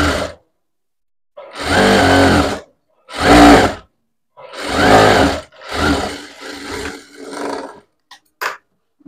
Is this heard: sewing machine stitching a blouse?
yes